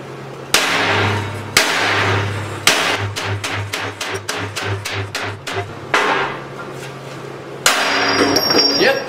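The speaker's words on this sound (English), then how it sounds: "I basically come out here with a hammer and beat the crap out of what I've just welded" Hammer repeatedly striking freshly stick-welded steel joints made with Hobart electrodes, a series of sharp loud metallic blows with a fast run of evenly spaced hits in the middle, a voice briefly heard.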